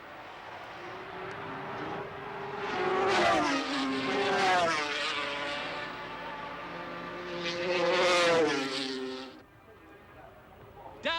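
Phil Read's Kawasaki racing motorcycle at Oulton Park during the 1977 Trans Atlantic Trophy howls past at high revs, pitch rising and falling through gear changes in two passes, with engine noise fading away near the end.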